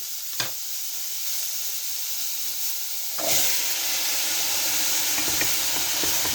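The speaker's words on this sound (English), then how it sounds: "because it's so hot, I think we can put the chickpeas in as well" Chickpeas tipped into a very hot, rather large pot for an egg chickpea curry: a steady hiss that swells into a louder, fuller sizzle partway through, close and continuous with no speech.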